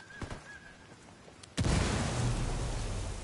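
A frag grenade goes off in the video game Ghost War, a sudden loud blast that follows a few faint clicks and a brief tone, then rumbles and hisses on without letting up.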